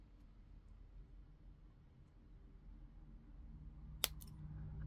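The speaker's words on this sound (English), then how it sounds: "make sure when you're cutting," Cutters snip through beading wire once, a single sharp click near the end of a quiet stretch with faint handling noise and no speech.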